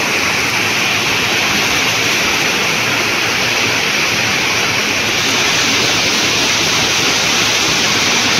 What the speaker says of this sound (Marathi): ओढ्याला पाणी पण मोठं आहे मित्रांनो